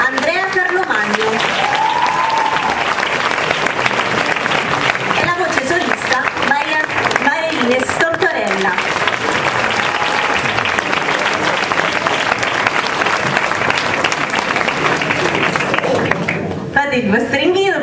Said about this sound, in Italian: prendetevi il vostro applauso